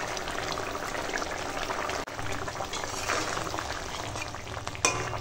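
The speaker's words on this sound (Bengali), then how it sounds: "কচু দিয়ে এখন মাছটা রান্না হচ্ছে" Fish and taro simmering together in a pot, a steady bubbling and sizzling with a brief knock near the middle and a small clatter toward the end, no voices.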